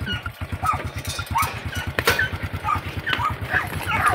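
A dog whimpers and yelps in short bursts close by, over a steady low engine idle like a motorcycle ticking over throughout, with no talk.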